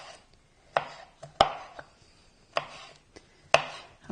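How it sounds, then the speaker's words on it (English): A knife chopping fresh tomatoes roughly into chunks on a board, a handful of sharp, close, separate thuds at an uneven pace with quiet gaps between. "And then you just cut them roughly into chunks"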